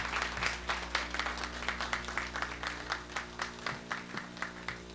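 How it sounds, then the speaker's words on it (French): Audience applause at a televised show, fairly quiet and somewhat distant, a continuous patter of many hands clapping over a steady low electrical hum. "On s'applaudit s'il vous plaît,"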